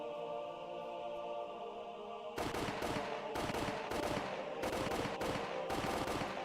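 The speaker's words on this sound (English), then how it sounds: "The sound of the gunshots echoed in the silence." Gunfire in the visual novel Higurashi: after a quiet ambient tone, a rapid string of loud gunshots bursts in and repeats in several close volleys.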